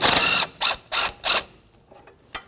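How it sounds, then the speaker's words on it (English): A ratchet spins out the 13mm bolts on the ABS sensor and flex hose brackets of a 2007-2017 Jeep Patriot, first in a long close burst of clicking, then three shorter ratcheting runs, followed by faint taps. "Take your two mounting bolts for your ABS sensor bracket and your front flex hose bracket out. That's a 13mm socket."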